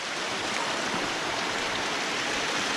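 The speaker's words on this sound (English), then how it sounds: "this has turned into a waterfall hike" Water rushes steadily down a steep hiking trail on Vancouver Island, a broad, continuous waterfall roar that is close and loud, with no voices over it.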